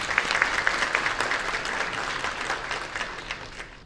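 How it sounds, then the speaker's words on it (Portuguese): Audience at a solar energy business conference panel giving a round of applause, a full wash of many hands clapping that starts strong and slowly thins out. "uma salva de palmas, por gentileza"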